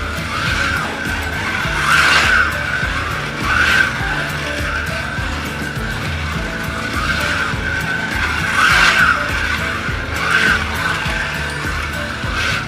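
AMC Javelin Trans Am slot car lapping a track, a continuous motor whine with periodic squealing surges as it rounds corners, loud and close throughout.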